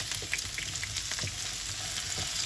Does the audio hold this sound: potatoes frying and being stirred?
yes